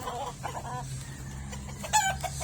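Pet chickens cluck and call close by on a farm, short throaty clucks followed by a brighter squawk near the end over low background rumble.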